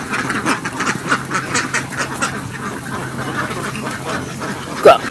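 A flock of ducks on a duck farm where eggs are being gathered quacks close by, with a steady run of overlapping, repeated calls throughout and one sharper cry near the end.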